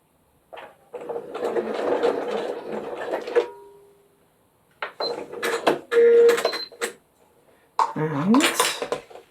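A sewing machine stitches a turned-out zipper pouch in short bursts: a longer run, a pause, then two more brief runs, all fairly loud and close.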